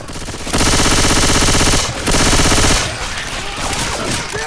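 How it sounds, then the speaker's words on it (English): Left 4 Dead 2 gunfire, with two long, loud bursts of rapid automatic fire separated by a brief pause, then quieter scattered shooting and game noise. "You're shooting me again!"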